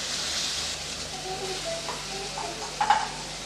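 Ground tomato paste sautés in a pan of okra gravy with a steady, close, hissing sizzle, and a short clink of stirring near the end.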